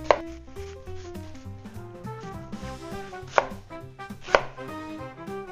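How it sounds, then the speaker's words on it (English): A Vidalia onion being chopped with a knife on a board, a few sharp distinct chops spaced out over a background that sounds musical, no speech. "Just peel that, and we're going to chop this."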